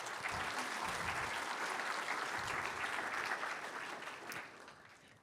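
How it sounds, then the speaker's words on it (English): Audience at an opening ceremony in Kyoto applauding, dense clapping that holds steady and then gradually thins and fades toward the end. "So big round of applause for them as well"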